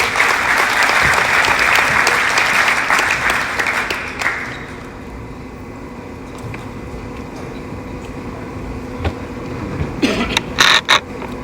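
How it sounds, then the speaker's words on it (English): Crowd applause at a letter-of-intent signing event as Omar Rodriguez is introduced: dense, loud clapping that fades after about four seconds into low room murmur, with a few scattered sharp knocks near the end. "let's give a round of applause for your second Dust Devil"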